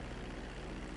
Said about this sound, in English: get the plane off the runway